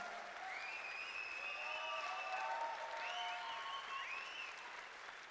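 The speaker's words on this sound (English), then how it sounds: "Crowd really getting behind him now." Sustained applause and cheering from a crowd watching a climber on a hard route, steady and loud throughout, with whistles and shouts rising over the clapping.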